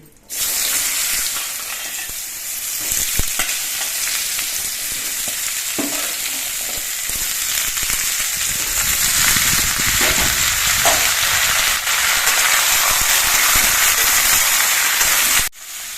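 Papaya pieces fry in hot mustard oil with a loud, continuous sizzle, broken by the scrape and clatter of stirring, close up and without speech.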